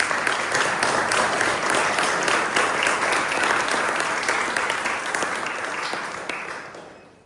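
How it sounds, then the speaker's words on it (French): An audience applauds the director in a hall, a dense sustained wash of many hands clapping that holds steady and then fades toward the end, with no talking over it. "Alors je crois qu'on peut vraiment l'applaudir et le remercier."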